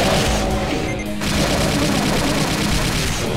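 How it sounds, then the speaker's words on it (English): Sustained rapid weapon fire from a plasma rifle in Brutal Doom 2 on GZDoom, a dense loud continuous barrage of shots with booming impacts, briefly dipping near one second then resuming steadily. "Get the plasma rifle out for the cacodemons"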